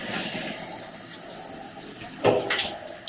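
A hotel shower at the Fauchon Hotel Kyoto runs water in a steady, moderately loud hiss, with a few louder splashes toward the end and no talking.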